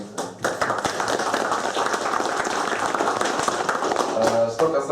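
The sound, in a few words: applause for the outgoing chamber chairman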